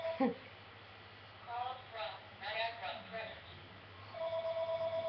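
A telephone rings with a rapid, pulsing electronic tone near the end, after some quiet indoor talk.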